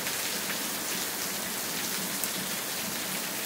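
Heavy rain falling hard in the sertão of Paraíba near Campina Grande, a dense steady roar of drops on surfaces that holds constant from start to finish with no voices.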